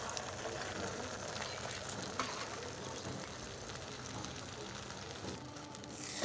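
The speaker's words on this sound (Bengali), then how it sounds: "এবার তেলটা গরম হয়ে গেছে, এবার ডিমের মামলেটটা করে নিচ্ছি" Beaten egg for an omelette frying in plenty of hot oil in a wok, a steady hissing sizzle held at moderate level for several seconds with no talk.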